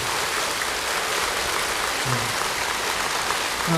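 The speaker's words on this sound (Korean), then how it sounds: "우리 법보 신문사에 큰 박수로 한번 감사히 드립니다." An audience at a Buddhist dharma talk at Jogyesa temple breaks into sustained, dense applause, a steady wash of clapping across the whole stretch with a brief voice near the end.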